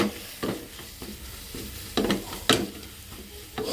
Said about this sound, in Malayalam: മല്ലിപ്പൊടി ഇട്ട് മഞ്ഞപ്പൊടി ഇട്ടു അല്ലേ നമുക്കിതൊന്ന് മിക്സ് ചെയ്യാം